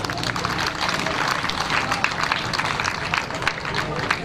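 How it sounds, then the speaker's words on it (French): Crowd applause for women who paraded at a rural women's celebration in Côte d'Ivoire, dense and steady clapping throughout with some crowd noise, fairly loud and continuous. "Elles méritent des applaudissements."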